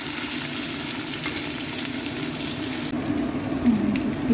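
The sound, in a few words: onions frying in oil with whole garam masala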